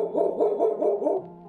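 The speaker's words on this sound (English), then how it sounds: "And more Eddie barks" A dog barks close by in a quick, even run of about five barks, then falls quiet.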